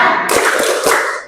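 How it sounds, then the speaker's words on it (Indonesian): Group of people clapping hands together during a classroom focus exercise, a short, loud burst of overlapping claps close by with no voices. "Tepuk tangan"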